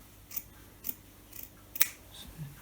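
Scissors cut through knitted stranded colorwork fabric during steeking, giving a handful of quiet, sparse snips spaced unevenly, with no talking.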